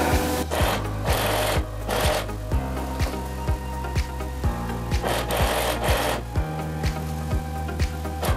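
A sewing machine stitches a round neckline on a T-shirt, loud close rapid mechanical whirring in repeated bursts with short pauses between runs, no talk.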